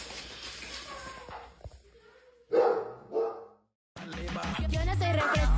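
A guard dog lets out a couple of sharp, close barks amid quiet household movement while Halloween decorations are brought out, then falls silent before loud music starts up.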